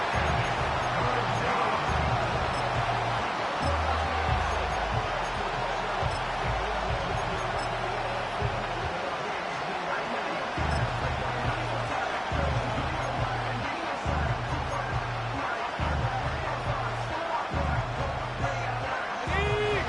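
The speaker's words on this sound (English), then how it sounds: "Crowd noise rises." Dense, continuous crowd roar fills a large stadium at an American football game throughout, with a low rhythmic thumping underneath.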